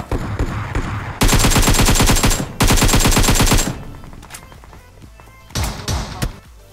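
Automatic fire from an AKM rifle in the PUBG Mobile video game, heard as two loud, rapid bursts of about a second each. Scattered single shots and thuds follow in a quieter stretch of gameplay.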